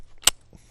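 The slide is pushed back onto a Canik TP9SA pistol, a flat dark earth handgun, with one sharp, close mechanical click followed by a fainter small clack.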